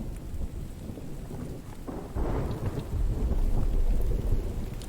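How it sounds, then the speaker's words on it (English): Steady rain with rumbling thunder from a thunderstorm in The Infected survival game, a dense continuous wash that swells louder midway and holds, with no voices. "I hope you guys can hear and appreciate that storm."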